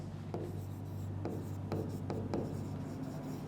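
A pen writes on a surface, making a few sharp taps and short scratchy strokes over a steady low hum, quiet and close with no talking.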